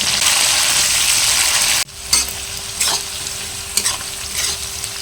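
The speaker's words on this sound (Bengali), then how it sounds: "আলু আর পুঁই শাকের মিটুলিটা কিন্তু খুব ভালো করে ভেজে নিয়েছি এরকম করে।" Potatoes and Malabar spinach stalks fry for a fish-oil chorchori, first in a loud, steady sizzle that cuts off abruptly, then under quieter scraping stirs with a spatula.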